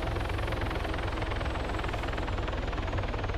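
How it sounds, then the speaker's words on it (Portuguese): Helicopter in the Arma 3 video game, a steady loud rotor and engine drone with rhythmic blade thumping, continuous throughout with no talking. "Tô ouvindo helicóptero."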